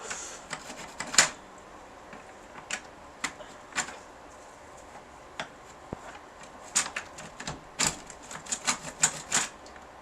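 A 1963 Royal FP manual typewriter clacks while being tested during servicing. Irregular keystrokes come singly and in quick clustered runs, close up and crisp, with brief mechanical rattles between them.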